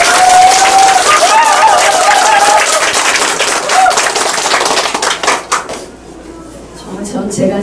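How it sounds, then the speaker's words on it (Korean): Dense applause from a crowd at a city council candidate's campaign office opening, with a voice carrying over it, the clapping thinning out toward the end before picking up slightly again. "힘찬 박수 한번 부탁드리겠습니다"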